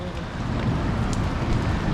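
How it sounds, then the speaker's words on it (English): Heavy rain pours steadily at Lagoon amusement park in Utah, a dense, continuous hiss of drops pounding nearby surfaces with no pauses. "these are heavy rain bullets too"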